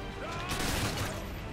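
A grenade blast in the war game Call of Duty: Modern Warfare 2, a brief crashing burst that swells and fades within a second or so, with a voice faintly under it.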